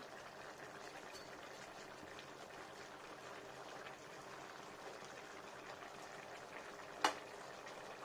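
Green jackfruit curry with turmeric and garam masala bubbling in a pan, making a low, even simmering hiss throughout, with one brief sharp tap near the end.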